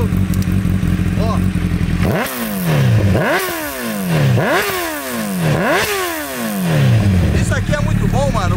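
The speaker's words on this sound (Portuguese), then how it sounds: "Eu vou ligar ela pra vocês verem. Se liga só no ronco, mano." A Honda CBR1000 Repsol sport motorcycle with a non-stock exhaust revs hard four times in a row, each blip rising sharply and falling back to a loud idle, with someone talking over the engine close by.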